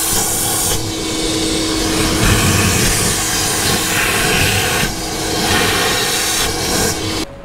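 A shop vacuum runs loud and close while cleaning out a Dodge RAM 1500 truck, a continuous roaring hiss with shifts in pitch as the nozzle moves, then cutting off at the end.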